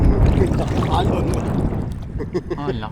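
Waves on Laguna de Bay slosh and slap against a small boat, a loud continuous wash of water with wind buffeting the microphone, while people talk over it.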